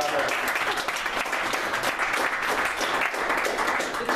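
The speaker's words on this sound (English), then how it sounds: "she should need a round of applause" Sustained, dense applause from a crowd, steady and fairly loud throughout with no talking over it.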